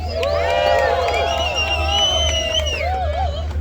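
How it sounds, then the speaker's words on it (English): Rally crowd outside a congresswoman's office cheering and whooping, with high voices and shouts carrying over steady crowd noise and a low hum, loud and close throughout. "Another round of applause for Guillermo."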